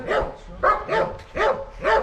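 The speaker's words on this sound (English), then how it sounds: "These dogs are crazy." Several dogs at a village home in Ukraine bark in four loud, close, evenly spaced bursts, alone without talk.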